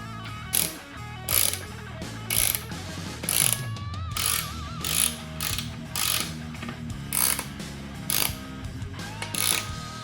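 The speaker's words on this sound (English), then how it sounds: "I'm going to just snug these 4 bolts down just to kind of hold it in place as I get the others started." Ratchet clicking in rapid bursts while bolts on a beadlock wheel for a Jeep YJ with 40-inch tires are snugged down, about ten short loud runs of clicks with brief pauses between them, no talking.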